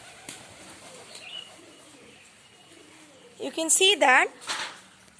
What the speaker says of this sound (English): I have observed there are so many pigeons in my backyards